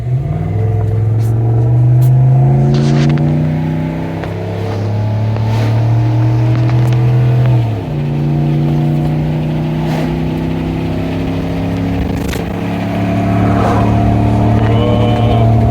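Ram 1500 eTorque Hemi half-ton pickup towing 10,000 lbs uphill at full throttle, a loud steady engine drone from inside the cab with rising and shifting tones as it pulls and holds speed.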